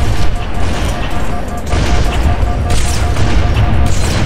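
Rapid bursts of gunfire in a video game, loud repeated shots in clusters over a few seconds, with a voice talking faintly underneath.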